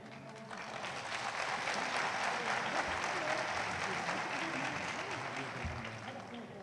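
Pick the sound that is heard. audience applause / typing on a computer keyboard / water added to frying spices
audience applause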